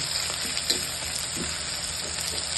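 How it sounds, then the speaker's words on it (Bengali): Chicken spices are cooked down in a pot on the stove, giving a soft, continuous close sizzle with a few faint stirring knocks and no voices. "হাঁড়িতে রান্না করছি মুরগির মাংস। মশলাটা আগে কষিয়ে নিচ্ছি"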